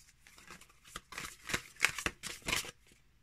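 A new, slightly stiff tarot deck, the Tarot of the Toiling Hands, is shuffled by hand in a string of quick, soft riffling bursts, close and fairly quiet.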